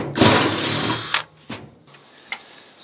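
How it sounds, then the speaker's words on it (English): A drill with a small metal bit bores a hole in metal, outdoors in a rustic off-grid setting: one burst of about a second, then two short blips of the motor, fairly close. "I'm going to just drill around the size hole that I need"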